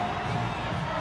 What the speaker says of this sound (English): So that gives the Canterbury crowd something to cheer about